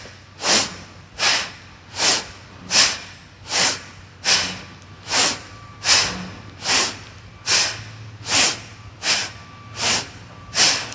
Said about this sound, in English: Keep up the breaths if you can.